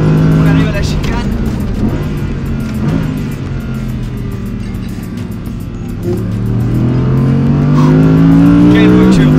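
Audi R8 GT with its V10 engine driven flat out on a track, a loud sustained engine note rising steadily in pitch under acceleration, heard from inside the car as people talk over it.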